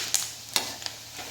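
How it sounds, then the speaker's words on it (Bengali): Fish roe fritters fry in hot oil with a soft, steady sizzle, broken by a few brief clinks and stirring sounds. "আর এইভাবেই কিন্তু লাল করে পুরো ভেজে নিতে হবে।"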